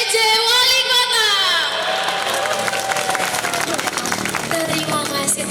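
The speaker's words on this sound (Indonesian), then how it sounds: "Terima kasih tepuk tangannya." A crowd claps and cheers, the applause building into a dense patter of hands after voices at the start.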